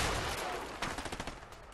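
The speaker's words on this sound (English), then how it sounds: "Surprised the shotgun reaches this far." Gunfire in the co-op game A Way Out, including a shotgun, a quick string of sharp reports in rapid succession toward the end, moderately loud over a noisy background.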